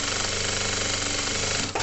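A sewing machine stitching a coin purse lining, a fast steady mechanical chatter that runs close and loud without a break before a brief hitch near the end.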